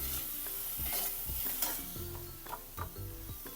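Vada pav spice mixture stirred and sautéed in a pan, making repeated close spatula scrapes and knocks over a continuous frying sizzle, with no talking.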